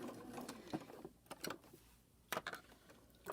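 A sewing machine back-stitches through fabric-wrapped rope for a trellis-lace bowl, running in short, close, quiet bursts of rapid stitching separated by brief pauses.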